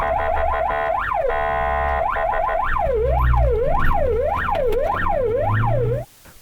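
An ambulance siren blares loudly and up close, starting with rapid yelping bursts, then settling into steady repeated sweeping whoops before cutting off abruptly near the end.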